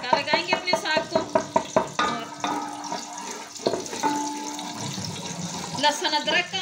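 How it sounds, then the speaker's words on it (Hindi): Crackling sizzle and bubbling as garlic, ginger and coriander hit hot desi ghee for tempering sarson ka saag, with stirring clatter at the start and a continuous frying hiss throughout. "देसी घी से हम तड़का लगाएंगे अपने साग को।"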